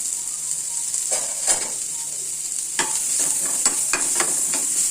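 Pumpkin sautéing in a pan with mustard seeds and curry leaves: a steady hiss of sizzling oil with scraping spatula strokes coming in bursts, close by and fairly loud, no talk.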